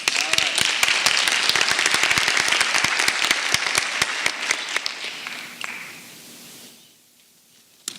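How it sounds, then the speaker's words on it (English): Loud, crisp applause from an audience at a community PTA meeting, sharp individual claps packed together before gradually thinning and fading to quiet, with one last clap at the end. "Let's give them a round of applause"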